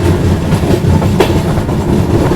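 Kanchanjungha Express rolls along rails through green countryside, a loud close rumble with rhythmic clickety-clack of wheels over joints throughout.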